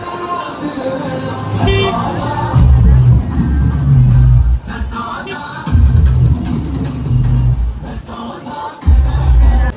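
A dense crowd fills a street during a Holi celebration, with steady babble of many voices, bursts of car and bus horns, and traffic noise that swells and dips throughout.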